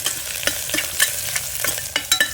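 Chopped cashews fry in a pan, with a bright, close sizzle punctuated by quick scraping stirs repeating every fraction of a second, and no voices.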